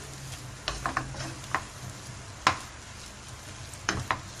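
Pre-cooked chicken with garam masala and salt fries in a pan, with a faint sizzle under intermittent clicks and scrapes from stirring.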